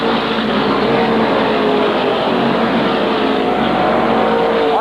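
SK modified race cars roaring around the short oval at Waterford Speedbowl during a 1993 race, a dense, continuous engine blare from several cars at once, loud and unbroken throughout.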